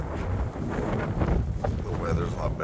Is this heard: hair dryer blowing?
no